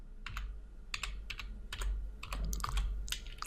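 Keys clatter on a computer keyboard in short quick bursts of typing, close and fairly quiet, with small gaps between clusters of keystrokes.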